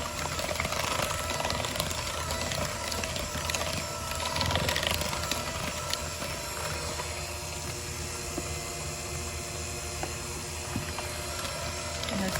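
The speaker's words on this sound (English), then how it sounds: "now we're going to slowly mix the dry ingredients into the wet ingredients" Peanut butter cookie dough being mixed, dry ingredients beaten into wet with electric beaters, giving a steady, loud mechanical whirring and rattling that runs without pause, with no talking.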